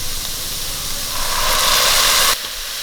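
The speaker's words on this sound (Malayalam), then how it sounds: "ഒരു സ്പൂണ് സോയാ സോസ് കൂടി ഒഴിച്ച് കൊടുക്കാം." Soy sauce hitting a hot pan of prawn fried rice gives a loud, steady hiss that swells midway and then cuts off abruptly, heard alone at close range.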